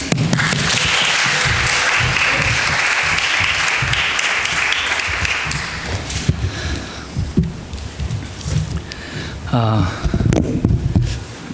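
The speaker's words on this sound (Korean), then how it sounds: "힘찬 격려의 박수가 필요합니다" A church congregation at a Sunday afternoon service breaks into loud, dense applause of encouragement that fades after several seconds, followed by someone speaking over the room.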